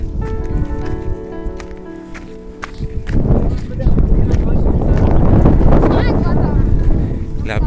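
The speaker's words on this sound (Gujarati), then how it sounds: "પવન એક નંબર આવે." A voice is heard briefly, then strong wind roars and buffets the microphone with a loud, steady rush, at a hilltop shrine with flags flying.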